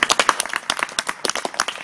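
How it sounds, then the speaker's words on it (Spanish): Children clapping in a quick, uneven burst of applause, lively and close, with no speech over it. "Un aplauso, ¿no? Por lo menos."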